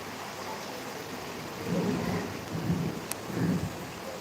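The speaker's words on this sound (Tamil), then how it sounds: "மழையும் ஸ்லோவாகிடுச்சு" Heavy rain falls as a steady, dense hiss, with a few soft low rumbles rolling underneath in the second half; no voices are present.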